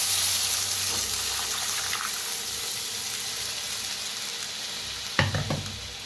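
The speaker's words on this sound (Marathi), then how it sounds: "जे ताक आपण हलवून घेतलं होतं दही ते ओतूया." Whisked buttermilk yogurt hits a hot pan of turmeric and toasted seeds with a loud, close sizzle that slowly fades. Near the end a sudden splash and crackle follows as liquid is added and stirred.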